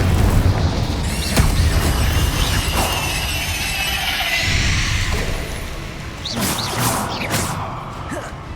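Blasting spells from Confringo and Incendio explode in Hogwarts Legacy gameplay, a loud, continuous run of booming blasts and crackling bursts with whooshing magic effects layered on top.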